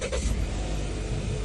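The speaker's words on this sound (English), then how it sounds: "and car starts right away" Volvo car from 2017 or later starting up after the brake pedal is pressed, a steady low engine rumble that settles into a continuous idle, close and moderately loud, with no voices.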